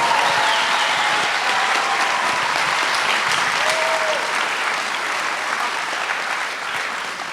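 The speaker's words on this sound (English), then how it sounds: "Maybe give a round of applause for our Shabazz staff." Sustained audience applause at a 2017 Malcolm Shabazz City High School graduation ceremony, a steady dense wash of clapping from a large crowd lasting throughout with no pause.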